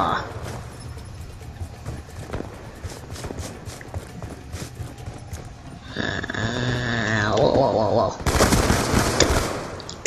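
Video game gunfire from the player's gun, scattered sharp shots amid busy game noise, building to a louder burst of rapid fire near the end.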